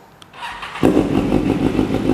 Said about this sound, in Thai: มาพร้อมท่อแต่งจากแอโร่ครับมาฟังเสียงท่อคันนี้กัน